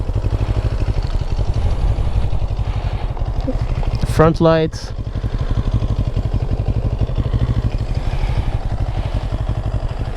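A 2022 CFMOTO 700CL-X motorcycle idles with a steady, close low rumble throughout, briefly interrupted by a short spoken phrase midway.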